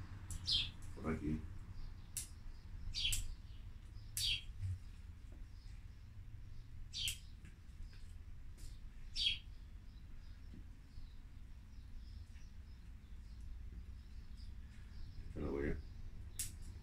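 Sparrows in a bonsai garden give scattered quick chirps, a dozen or so short tweets spread irregularly across a quiet background, fairly faint and distant.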